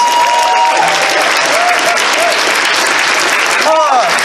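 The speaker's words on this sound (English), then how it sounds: "give them all a round of applause!" Dense, loud audience applause at a charity event, a steady wash of many hands clapping close by, with cheers and whoops rising over it.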